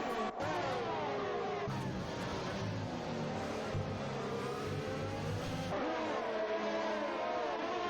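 Race cars in a Tier 3 sim-racing event at Austria roar past in a long chain after a restart, several engines layered and revving continuously, loud and close throughout with gear-change pitch shifts.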